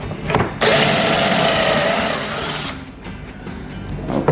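A power drill drives a 2.5-inch screw into a pocket hole in a wooden desk build, one sustained close whirring burst of about two seconds with brief handling noise around it.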